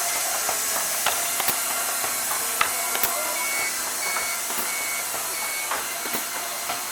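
Steady mechanical whirring and hiss of a TGM Model B 620 16-station rotary tube filler with diving fill nozzle, hot air seal and agitated hopper running close by, with frequent sharp clicks and ticks spread irregularly throughout.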